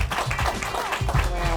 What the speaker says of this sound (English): please give the residents a big round of applause